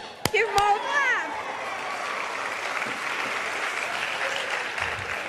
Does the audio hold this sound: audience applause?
yes